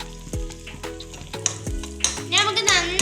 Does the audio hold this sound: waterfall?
no